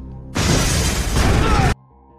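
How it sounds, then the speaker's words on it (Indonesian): A car blows up in a film scene on a road: a sudden loud blast at about a third of a second becomes a dense roar for over a second, then cuts abruptly to a quieter low background. "tiba-tiba mobil itu meledak"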